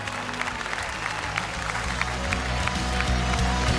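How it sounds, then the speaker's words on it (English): Crowd applause at an IEM Cologne StarCraft esports event during Gamescom, a distant, steady wash of clapping over loud low hall rumble and background noise. "Let's give one last round of applause before StarCraft to all these players."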